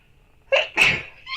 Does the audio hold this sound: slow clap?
no